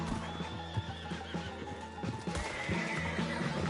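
A horse in Red Dead Redemption 2 neighs over steady clip-clopping hooves during a chase, the whinny loud and near amid continuous game sound.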